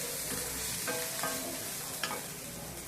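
Drumstick leaves fry in a pan with a steady sizzle, broken by a few brief scraping stirs, close and moderately loud with no talking.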